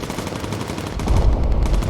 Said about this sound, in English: Nice shooting and good shooting.